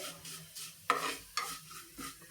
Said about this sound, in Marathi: आता हे परतून घेऊयात आपण